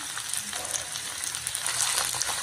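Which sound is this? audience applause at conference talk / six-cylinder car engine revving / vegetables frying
vegetables frying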